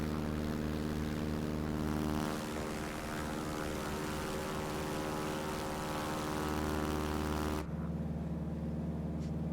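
A T-6 Texan propeller engine at full throttle in MSFS 2024 drones loudly and steadily with a dense harmonic roar, then drops in character near the end, with no talk.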